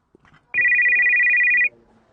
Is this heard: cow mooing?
no